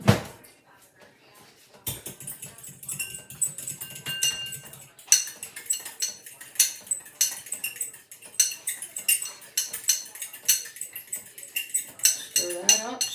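A fork clinks and scrapes rhythmically against a bowl while tossing a Greek salad with finely grated store-brand cheese, a dense run of close, bright taps after a brief pause.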